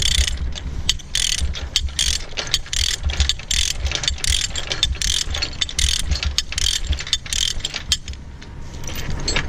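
Ratcheting chain binder on a load chain being turned to loosen, a close, loud, rapid rattling clatter of pawl clicks repeating in quick bursts, alone without talk.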